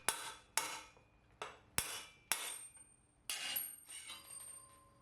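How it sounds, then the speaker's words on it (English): Sharp hammer or mallet taps knock the headset cups out of a vintage 1990s mountain bike frame, six distinct metallic strikes at an uneven pace, each ringing briefly, with no talk. "carefully tapping around the circumference of the headset cup to make sure it comes out as straight as possible"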